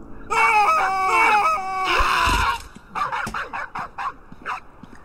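Several dogs in the video game Survival Postapocalypse Now bark and yelp in a loud, harsh run, first in long overlapping howling cries, then in a quick string of short barks, close and alone.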